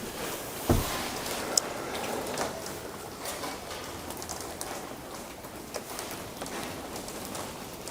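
Steady rain pattering at night at a campsite, a dense continuous hiss with scattered drops and one sharp knock near the start, no voices.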